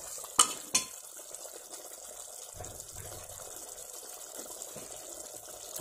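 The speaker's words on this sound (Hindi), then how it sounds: "अब इसके अंदर हम पानी डाल देंगे आवश्यकता के अनुसार।" Water is poured into a pot of heated mutton for a Mutton curry in the Old Delhi style, opening with two sharp metal clinks and followed by a faint, steady wash of liquid.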